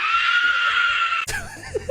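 A woman lets out a loud, shrill scream of fear that holds for over a second, then breaks off abruptly into brief muffled noise and a short cry.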